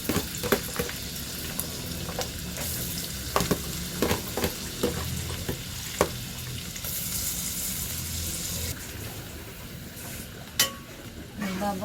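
Garlic frying in butter in a pan for a no-bake spaghetti, with a continuous sizzle broken by frequent scrapes and clinks of a utensil stirring against the pan, close and fairly quiet.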